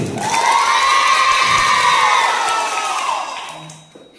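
A crowd of schoolchildren cheers and shouts loudly at an elementary school award ceremony, a sustained burst of voices that swells and then fades away.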